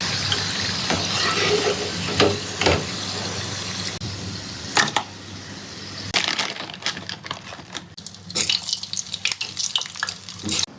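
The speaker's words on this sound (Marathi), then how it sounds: "जोपर्यंत तिथे फ्राय होत आहे" Food frying in a pan of oil over low heat, a steady crackling sizzle with scattered sharp pops and stirring clatter at close range, with no voices.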